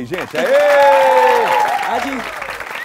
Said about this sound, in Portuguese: Cadê as palmas pra Lula aí